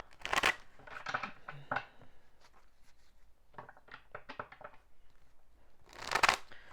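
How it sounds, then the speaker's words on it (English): Cards being shuffled up close, with crisp riffling bursts at the start and end and lighter flicking and tapping in between. "let's get this fresh deck and go ahead and shuffle"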